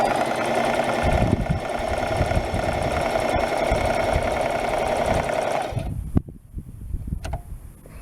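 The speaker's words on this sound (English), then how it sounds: "I'm going to sew these two dots together" Sewing machine stitching two layers of cushion cover fabric together, a loud steady mechanical whir running continuously for about six seconds before stopping, followed by a few faint handling clicks and rustles.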